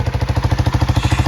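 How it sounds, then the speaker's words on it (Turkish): A CF Moto 250 NK motorcycle with stock exhaust idles up close with a steady, quick chugging pulse and a low rumble, no voices. "Rölanti sesi böyle"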